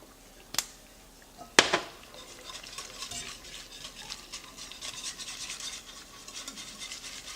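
A spoon stirs a seafood sauce seasoned with Chinese five spice in a pot, two sharp clinks against the pot followed by steady scraping and sloshing close by, with no talk.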